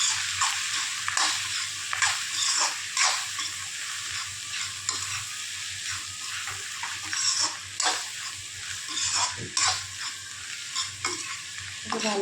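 Spices and chili powder frying in a pan under repeated stirring, loud crackling sizzle with frequent scraping strokes of a spoon against the pan, close and continuous.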